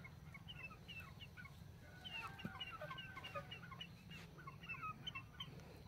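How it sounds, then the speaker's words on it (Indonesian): Chickens cluck repeatedly in a village yard on a morning, short scattered calls overlapping at moderate distance over a steady low background hum. "Ayam-ayam ini selalu mengikuti saya."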